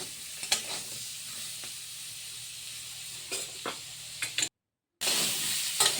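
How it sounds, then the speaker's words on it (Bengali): Dal (lentils) frying in a pan for a home-cooked Bengali thali gives a steady close sizzle, with occasional stirring scrapes and a brief cut in the sound near the end. "ডালটা ভালো করে ভেজে নিচ্ছে"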